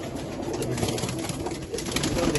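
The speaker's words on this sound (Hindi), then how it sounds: "ये सारे उड़ान वाले परफॉर्मेंस वाले कबूतर हैं सरदार साहब के" Performance flying pigeons coo in a loft, with soft overlapping throaty calls from several birds close by against a busy, continuous background.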